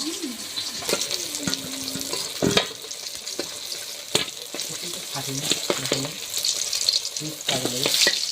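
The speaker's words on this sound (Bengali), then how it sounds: "মাছ ভাজা হয়ে গিয়েছে এবার তুলে নেব" Large pieces of fish from a big four-kilogram fish frying in oil, with a loud steady sizzle and crackle close up, broken by spatula clinks and scrapes.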